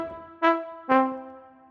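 Virtual tuba preset in Logic played dry without EQ, two sustained brassy notes in a row, clear and fairly bright, with no talking.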